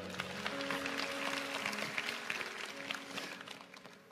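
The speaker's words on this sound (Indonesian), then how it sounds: "kasih tepuk tangan untuk Tuhan" A crowd claps and applauds steadily in a large church service room, with sustained music tones lingering underneath.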